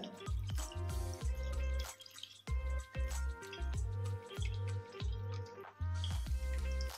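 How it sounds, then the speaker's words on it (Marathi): Cold water is poured over cooked jeera rice, a quiet run of repeated watery drips and splashes in an irregular rhythm, close by with no voices. "आता आपण त्याच्यावर थोडं थंड पाणी टाकून देऊ"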